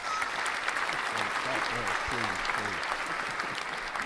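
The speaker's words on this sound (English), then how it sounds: "Let's give them some applause." An audience at a live on-air show applauds guests with steady clapping and some voices mixed in, holding at an even level throughout.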